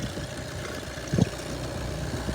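A 2014 VW Golf 1.6 diesel engine idles with a steady low rumble and one small pop partway through, heard close and without talk.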